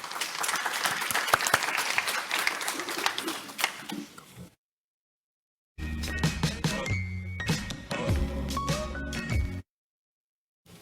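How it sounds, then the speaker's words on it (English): Audience applause for conference panelists at a nutrition event, a dense burst of clapping for about four seconds, then a pause and a second stretch of clapping mixed with music-like tones. "a round of applause for our panelists here"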